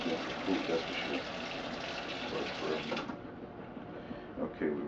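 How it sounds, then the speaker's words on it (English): Water gushes steadily into a plastic bag as it is rinsed out, a continuous splashing rush that drops off partway through, leaving softer sloshing. "Okay, we rinsed it out with water."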